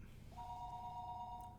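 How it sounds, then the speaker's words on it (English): A telephone rings in the Higurashi visual novel game, a single clear electronic ring tone that starts after a brief pause and holds steadily over a quiet low hum. "the phone rang and I picked up the receiver in a hurry"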